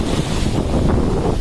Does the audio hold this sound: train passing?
no